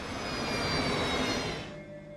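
A jet airliner's left engine roars in reverse thrust during landing rollout, a loud broadband rush that fades toward the end, no voices.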